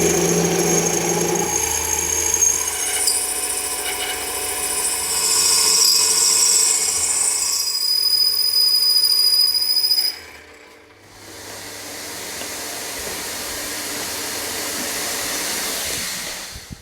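Drilling out a valve guide in a Porsche 964 cylinder head, a steady high-pitched power-tool whine running loud for about ten seconds, then cutting off and giving way to a quieter, lower mechanical hum.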